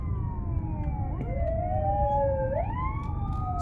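An ambulance siren wails through traffic on a city street, the rising and falling tone sweeping and bending in pitch as it passes close by over a steady rumble of engines.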